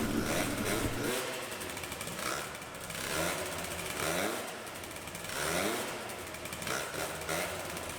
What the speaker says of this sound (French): j'essaye de faire un peu monter dans les tours